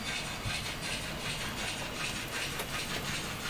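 Model railway trains run along the track with a steady rolling rumble and hiss, a continuous close mechanical sound with no talking.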